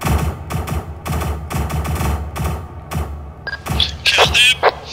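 Single-fire gunshots in the SCP video game, a rapid series of sharp, loud, separate shots at an uneven rhythm, with a voice shouting over the final second.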